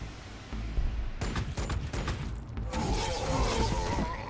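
Gunfire in the strategy game Warhammer 40k: Gladius comes as a burst of rapid, crackling shots and mechanical clatter, dense and fairly loud, with no voices over it.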